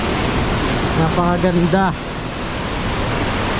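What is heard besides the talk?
Bumudok Waterfalls rushing water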